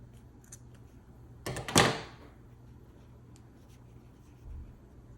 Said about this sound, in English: then I'm going to cut my yarn where I would like it to end